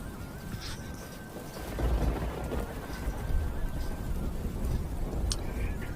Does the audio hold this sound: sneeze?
no